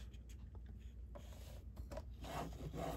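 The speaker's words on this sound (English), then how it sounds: "I'm going to cut 2 3/4 off of this side" Quiet, close scraping and rubbing as paper is cut for a scrapbook layout, a steady low rasp running throughout with slightly louder strokes toward the end.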